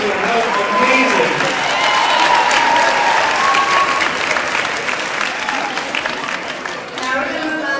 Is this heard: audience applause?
yes